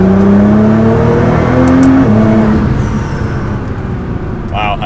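A turbocharged car on its middle boost setting accelerates hard, its engine note climbing in rising tones with a whirring drone, loud and close from inside the cabin, a voice talking over it.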